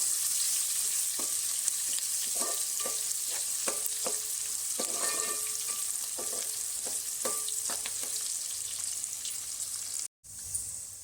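Chopped onion fries in a pan with garlic for a crab dish, a steady loud sizzle with repeated clinks and scrapes of stirring, then a brief cut-out near the end.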